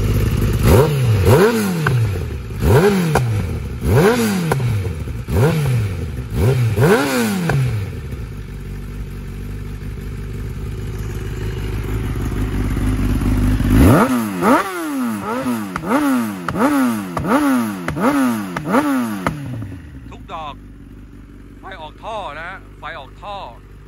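A motorcycle engine runs and is revved repeatedly, loud and close, with rhythmic rising bursts, a stretch of steadier running in the middle, then another series of sharp revs before settling to idle.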